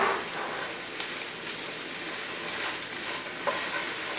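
Tomato paste sizzles in a hot pan as it is stirred around, a dense, steady frying hiss close by, broken by occasional soft scrapes and clicks of the spoon.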